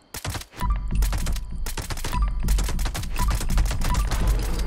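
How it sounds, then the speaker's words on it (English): Rapid automatic fire from a bloodied assault rifle in the game Fallout 76, around twenty rounds in a dense, continuous loud burst with a brief gap near the start, close and unbroken. "I missed a couple of shots there and obviously fired a couple of shots there at the end, but about 20 bullets."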